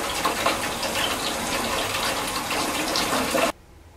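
Bath water gushes steadily from a tap into a tub in a spacious hotel bathroom at night, a loud continuous rush that stops abruptly near the end.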